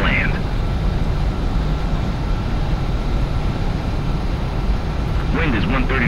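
A jet aircraft roaring for takeoff in Ace Combat 7, a steady, loud engine rumble held throughout, with brief radio-style voices at the start and end.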